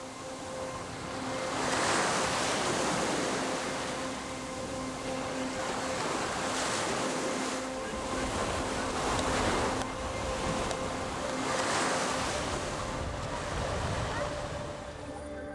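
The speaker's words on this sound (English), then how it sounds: "the ocean's currents can be violent, and the wind stirs the water's surface" Ocean waves off the Ibiza coast between large rocks, with wind blowing over the water: a continuous rushing wash with slow swells rising and falling, steady and moderately loud, with wind buffeting the microphone.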